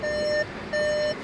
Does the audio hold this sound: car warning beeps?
yes